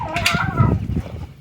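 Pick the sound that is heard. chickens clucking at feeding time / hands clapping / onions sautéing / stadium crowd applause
chickens clucking at feeding time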